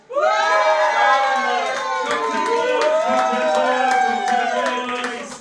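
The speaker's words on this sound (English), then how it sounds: "A big round of applause for the Cocktail Boys." At a 60th birthday party a crowd claps, cheers and whoops for the cocktail bartenders, a loud burst of shouting and applause that starts abruptly and carries on for several seconds.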